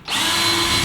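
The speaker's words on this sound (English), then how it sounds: "I decided that I would pre-drill a hole using a drill bit here" A power drill bores a pilot hole into hardy board, a steady loud motor whine holding throughout after a brief start-up.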